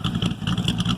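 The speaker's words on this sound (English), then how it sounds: "Come around back, you can hear the exhaust." A Corvette Z06 engine idles with a loping, uneven exhaust burble, pulsing in a rough, throaty rhythm close by from behind the car, with no voices.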